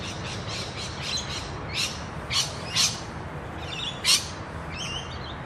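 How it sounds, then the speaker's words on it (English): Several loud, harsh bird squawks ring out at irregular intervals over a steady background hiss, fairly close by. "I'm surrounded by real birds. Wild ones. You can hear them."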